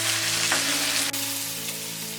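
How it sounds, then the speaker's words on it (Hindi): Spring onion greens are stirred in a pan of frying onions with chana dal, giving a close, steady sizzle. One sharp scrape of the spoon comes partway through, and no one talks. "अब हम इसमें डालेंगे ये स्प्रिंग अनियन ग्रीन्स, मिक्स कर देते हैं।"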